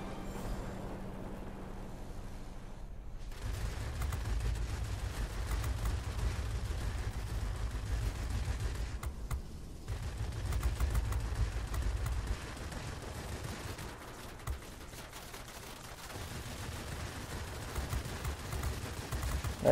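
P-38J Lightning aircraft cannons fire in World of Warplanes, a sustained low rumbling burst of gunfire that starts abruptly, drops out briefly mid-way and resumes, with engine drone and faint game noise underneath.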